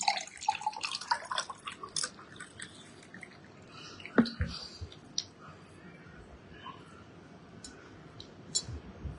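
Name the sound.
water being added and mixed with drops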